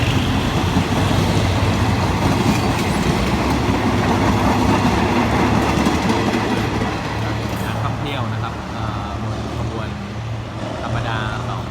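A diesel locomotive hauling passenger train 257 rumbles past a rail-side community with a loud, continuous low roar and rattling carriages. The noise eases slightly toward the end, and some faint higher sounds come in late.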